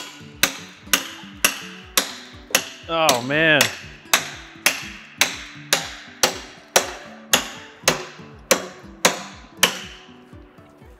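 A stuck slide selector on a John Deere 1910 air cart is struck with a hammer in a steady series of sharp metallic blows, roughly two per second, close and ringing, with a short scraping squeal partway through and a brief spoken exclamation.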